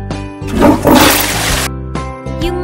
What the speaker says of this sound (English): Can you flush the toilet?